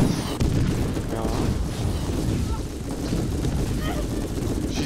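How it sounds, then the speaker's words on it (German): Gunfire in the shooter video game Borderlands during an arena fight, a dense continuous barrage of shots and explosions filling the whole stretch, with players talking over it. "Ich schieße, schieße, schieße."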